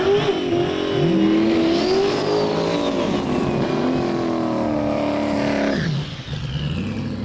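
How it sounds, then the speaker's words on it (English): An orange Honda S2000 race car at a street drag event accelerates hard, its engine note climbing steadily through the revs, loud and close with a whining fuel pump under it, before a brief shift-like dip near the end. "Loudest fuel pump on the planet."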